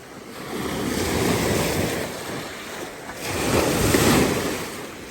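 Strong waves washing against the shore at Clearlake, California, rolling in two broad swells with heavy wind rumbling across the microphone and no voices.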